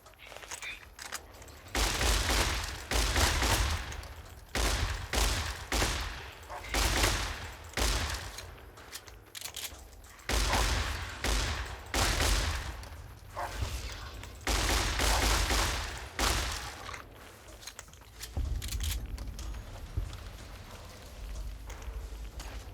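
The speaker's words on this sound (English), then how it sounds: "Shotgun." Shotgun fire in the video game Fallout New Vegas: a rapid string of loud, booming blasts in bursts, some overlapping, with short pauses between volleys over roughly twenty seconds.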